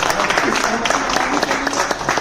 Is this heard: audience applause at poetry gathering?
yes